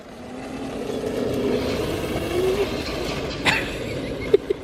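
A fully upgraded Crazy Cart drifts with a steady motor whine and tyre scrub sweeping along the ground. A few sharp clicks and knocks come near the end.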